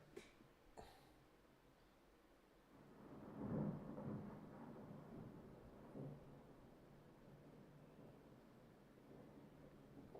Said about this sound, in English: Good old clap of thunder.